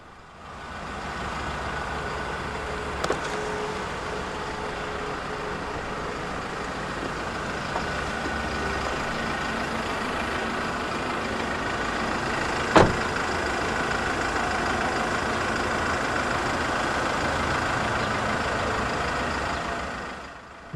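A 2014 Mazda BT-50 2.2 4x4 double cab pickup runs steadily at idle, a constant broadband engine drone with no talk over it and a couple of brief sharp clicks along the way.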